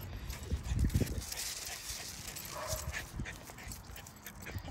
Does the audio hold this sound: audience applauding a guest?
no